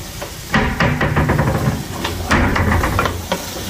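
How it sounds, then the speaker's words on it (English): Squash fries in a pan with a steady hiss and sizzle, broken by a few louder crackling bursts and faint clatter, close by with no talk. "We are frying the squash."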